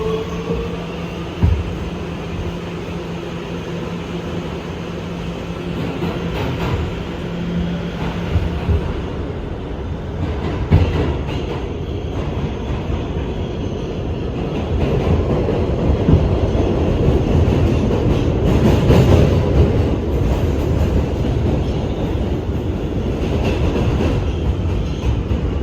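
An R211 B subway train gets under way on a ride between 96th Street-2nd Avenue and 57th Street-7th Avenue, heard from inside as a steady rumble that builds as it speeds up, with rail clatter and occasional squeals.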